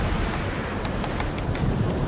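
Steady rain in the naval combat game World of Warships, a dense, even wash of falling water with faint scattered higher taps, close and continuous with no voices.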